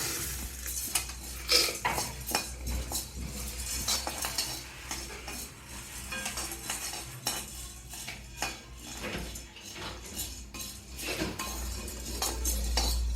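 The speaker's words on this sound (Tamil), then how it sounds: "பொட்டுக்கடலை 150 கொட்டிக்கங்க." Roasted gram being poured into a grinder jar for moringa idli podi, a steady clattering of dry grains with clinks against metal running throughout, close and moderately loud, no talking.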